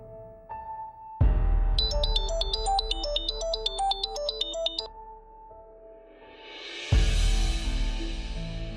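A phone ringtone plays a bright repeating melodic pattern, loud and close, then breaks off into a brief low tone before a rising electronic sweep swells at the end.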